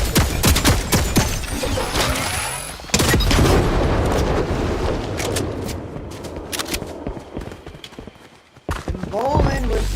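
Turret gunfire in a first-person shooter video game: dense bursts of rapid shots crackle and boom almost continuously, briefly dropping out near the end before resuming, with someone talking over the shooting.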